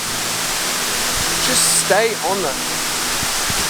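A forest waterfall roars with a close, steady rush of falling water that fills the whole stretch, while someone briefly speaks over it midway.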